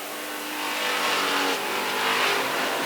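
Late model race cars racing on a track, a sustained roaring engine pass that swells and holds loud with a rising whine, no talk heard.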